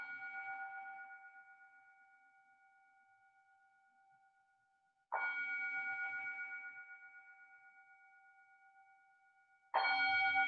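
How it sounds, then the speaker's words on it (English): Three strikes of a resonant bell during yoga relaxation, each ringing out clearly in a quiet room and fading slowly before the next, with no talking. "The sound of the bell, the sounds outside."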